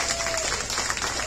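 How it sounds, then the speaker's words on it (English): An outdoor festival audience at a youth ranch Thanksgiving event gives a short, dense burst of appreciative applause for volunteers. "let's make sure that you guys give them an appreciation applause for that"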